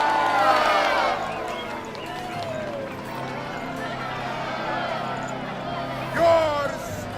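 Crowd cheering in Assassin's Creed Odyssey, a festive roar of many voices after a champion is declared in Sparta, with shouting rising and falling under a loud announcer's voice.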